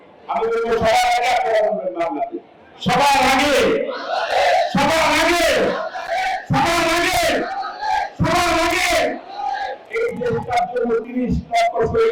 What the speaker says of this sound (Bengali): আমি আপনাদের সাথে একটা স্লোগান দেবো আপনারা স্লোগান ধরবেন